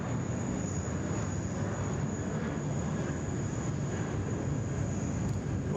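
A China Eastern airliner passes at Sydney Airport, its engines giving a steady, broad roar that holds even throughout, moderately loud, with no talk over it.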